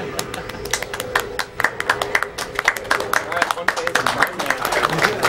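Several people clap in quick, uneven bursts during a live Metroid Prime speedrun at a charity gaming marathon, sharp hand claps rattling close by while commentators talk underneath.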